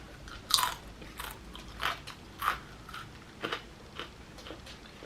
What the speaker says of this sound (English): Some dog eating ASMR.